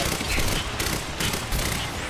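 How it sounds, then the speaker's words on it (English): Rapid bursts of gunfire from the video game Quantum Break, dense and loud, with sharp shots layered over a constant noisy backdrop of combat in a swimming-pool level. "Taste my pistol."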